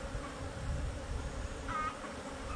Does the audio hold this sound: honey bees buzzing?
yes